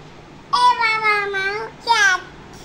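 A child imitates a cat's meow with two drawn-out, high, wavering cries, the second one shorter, close to the listener in a quiet room.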